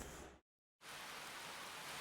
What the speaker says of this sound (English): A gentle rain begins to fall.